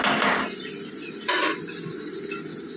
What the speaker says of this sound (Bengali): এই পেঁয়াজটা আমি বেরেস্তার জন্য ভাজব।